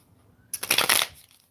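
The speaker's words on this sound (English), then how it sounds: "Let me get one more shuffle in here" Tarot cards shuffled by hand in a single brief riffling burst of papery flutter, close and fairly soft, with quiet room tone before and after.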